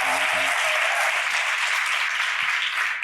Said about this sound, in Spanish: Démosle un fuerte aplauso de gloria a Dios